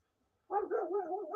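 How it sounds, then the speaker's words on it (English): A dog gives a drawn-out, wavering howl-like bark after a moment of silence, fairly close but moderate in volume, with no talk over it. "Oh, Jesus Christ, dogs."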